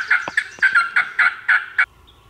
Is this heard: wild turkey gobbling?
yes